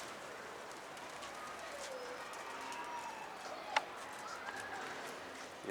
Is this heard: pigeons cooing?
yes